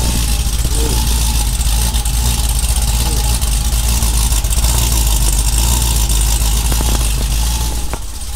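An 800 whp Cadillac CTS-V with an LS cam idles loud and close inside a garage, a steady choppy rumble that holds without pause throughout.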